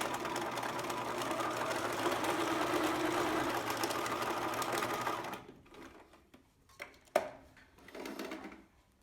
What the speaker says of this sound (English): So now I'm gonna just sew up that close or that open edge.